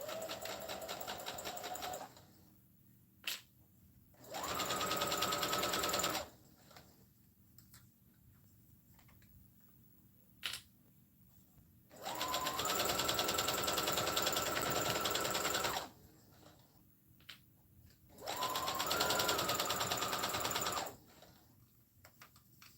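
A sewing machine stitches a knotted headband in three separate runs of steady fast whirring, with quiet pauses and soft clicks between them.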